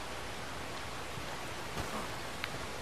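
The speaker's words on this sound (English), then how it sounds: "the rain just popped in on me" Steady rain falls in the open-world game Red Dead Redemption 2, a constant even hiss of drops filling the background with a couple of faint brief knocks and no talking.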